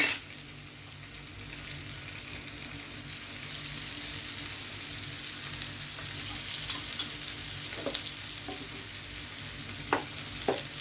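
Pomfret fish frying in oil in a pan, a steady, close, broadband sizzle and crackle lasting throughout, with a few sharper spits and pops near the end and no talking.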